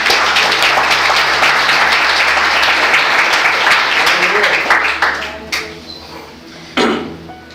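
A church congregation applauds the Lord during a sermon, a loud dense wash of clapping that thins and fades near the end, leaving a few scattered late claps and a sharp final tap.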